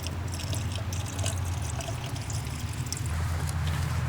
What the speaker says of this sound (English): top my coolant up with distilled water